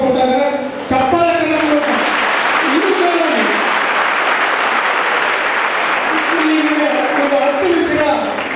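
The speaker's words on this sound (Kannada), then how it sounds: "ಚಪ್ಪಾಳೆ" Audience applause at a Sunday youth community gathering in Gulbarga, a dense steady clapping that swells after a brief voice at the start and carries on loud and sustained, with a speaking voice faintly over it near the end.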